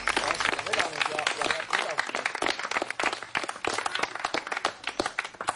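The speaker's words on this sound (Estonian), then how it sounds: "Nii et teeme Arnoldile ühe suure aplausi selle eest" An audience gives a big ovation at a public gathering: dense, steady applause from many hands fills the whole stretch, loud and close, with no pause.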